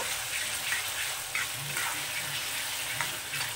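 Potatoes deep-fry in oil over high heat for crispy aloo bhaja while being stirred. A steady, close sizzle and bubbling run throughout, with soft scraping stir sounds rising now and then.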